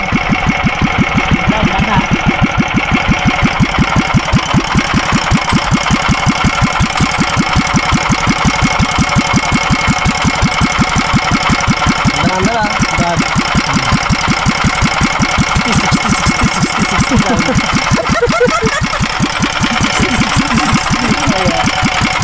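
An engine runs at a steady fast idle, its rapid even pulsing loud and close for the whole stretch, with no talking over it.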